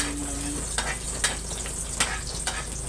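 Garlic sizzles and fries in a pan for pork adobo, a steady close hiss broken by several sharp scrapes and knocks of a spoon stirring against the pan.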